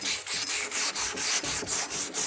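Coarse 80-grit sandpaper scrubbing over plastic body filler in a dent repair, about ten rhythmic back-and-forth strokes with short gaps, close and steady with no voices.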